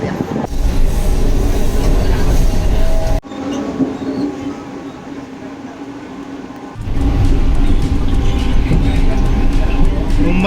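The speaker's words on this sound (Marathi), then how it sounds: "मुंबई लोकल." Ride aboard a Mumbai local train, a loud continuous rumble of wheels and carriage noise that drops briefly in the middle before the full clatter returns, with voices faintly present.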